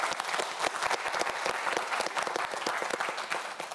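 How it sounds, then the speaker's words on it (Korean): A studio audience at a student quiz show claps for a contestant: brisk, dense applause, close and lively, running without a break. "역시 큰 박수 보내주세요"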